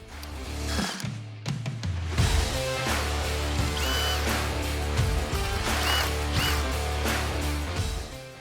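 Ratchet clicking as T30 fasteners come out from under the fender of a Can-Am Maverick X3, rapid repeated ratcheting close by with a few knocks and metallic clinks, no voices.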